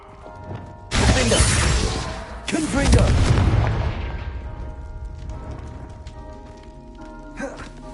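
The Confringo blasting spell explodes in Hogwarts Legacy: a loud booming blast, then a second heavy burst that rumbles and decays slowly, with a brief faint crack near the end.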